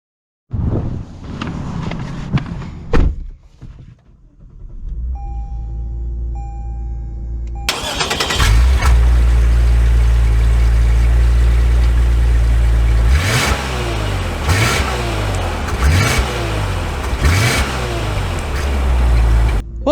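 2022 Lexus RC 350 F Sport cranking into a quick start and settling to a loud, close idle, then revving in repeated rising pulls as it drives off, after a few faint rustles and clicks.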